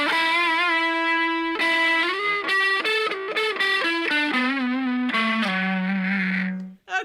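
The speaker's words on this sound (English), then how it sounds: "Now we're going to the neck pickup." A distorted electric guitar played on the neck pickup: a long sustained note, then a run of bent and sliding notes that ends on a held low note, loud and close.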